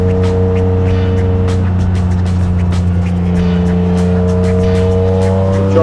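BMW race cars of the E36, E30 and E46 generations driving on a racetrack, a loud continuous engine drone with steady revving pitch and faint tire noise, close and unbroken throughout.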